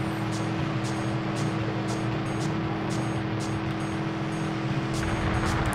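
Car engine droning steadily at full throttle in the Driver 2: Back on the Streets video game, a constant loud hum with faint periodic ticks, heard alone without talk.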